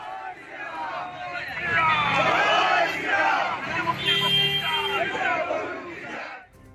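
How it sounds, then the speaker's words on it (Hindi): A street protest crowd chanting Jai Shri Ram slogans, a dense, loud mass of voices shouting together in sustained waves with general crowd hubbub underneath. "सड़कों पर उतरी भीड़ ने लगाए जय श्री राम के नारे"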